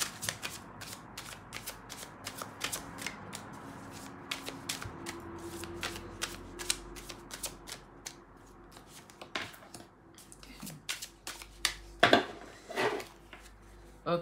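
A tarot deck is shuffled and cut at close range, a long run of quick papery card riffles and flicks with a few soft taps, fairly quiet and steady throughout.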